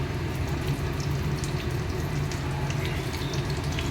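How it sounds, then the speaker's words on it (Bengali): Fish frying in hot oil for lunch: a steady, dense sizzle with scattered small crackles and pops, close and continuous throughout, no voices. "এই তেলটা গরম হয়ে গেছে, এবারে আমরা লাঞ্চের জন্য এই মাছ ভাজতে শুরু করে দিলাম।"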